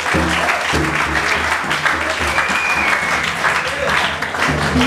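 Church congregation applauding during a testimony about a woman saved from an accident, a dense steady wash of clapping for the full stretch, with a low sustained music or organ tone and faint voices underneath.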